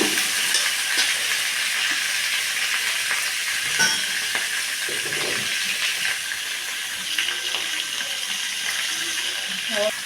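Cauliflower curry gravy being stirred in a hot pan, a steady sizzle with soft scraping strokes and a few sharp utensil clinks, close and fairly loud throughout.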